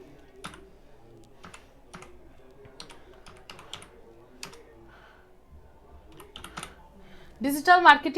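Keyboard typing on a computer while entering search keywords, a steady run of sharp individual key clicks with uneven rhythm, fairly close, ending in a brief louder burst.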